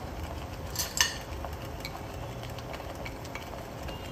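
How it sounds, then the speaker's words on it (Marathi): Onion and garlic with turmeric sautéing in a pan for a vegetable Burmese khao suey, with faint sizzling and a few clinks of a spoon scraping the pan, one louder clatter near the start. "त्याचा कांद्याचा, लसणाचा सगळा कच्चा वास जाईपर्यंत परतायचं आहे"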